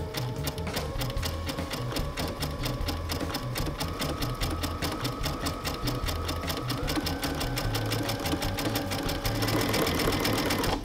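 A sewing machine sews a satin stitch for raw edge applique, its fast even needle chatter running continuously and close, with slight shifts in speed and pitch.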